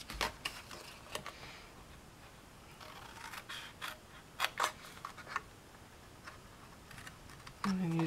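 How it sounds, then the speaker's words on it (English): Stampin' Up paper snips cut through paper in a few crisp, close snips, separated by short pauses against a quiet room. "I'm using my paper snips by Stampin' Up. Love these, they're so sharp."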